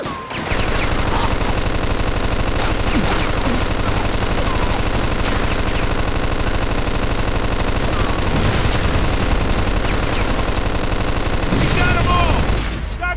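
Loud, dense gunfire in a PS3 video game runs almost without a break, with rapid automatic bursts and booming shots piling up until a sudden drop near the end.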